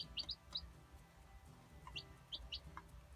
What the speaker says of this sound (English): they're chirping real loud.